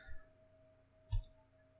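A single computer mouse click while cutting an image in WordPress, a short soft tick near the middle, quiet and isolated against a faint steady background hum, with a light bump at the start.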